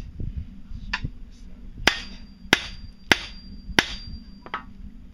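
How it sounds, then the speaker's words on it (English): Four sharp metallic hammer strikes on a metal pipe ring out at steady intervals, with lighter taps before and after, close and loud over faint background noise. "I'll get a hammer and smack it"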